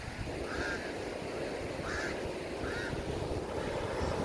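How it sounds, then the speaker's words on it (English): Pied crows call on a beach in a few short, moderately faint cries spaced a second or so apart, set against a steady wash of wind and surf. "I think those are called pie crows."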